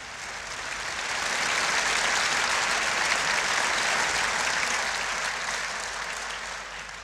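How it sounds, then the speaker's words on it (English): Applause from a concert audience at a youth orchestra performance swells from quiet into dense, sustained clapping, holds, then tapers slightly toward the end. "it is, of course, the applause of the crowd"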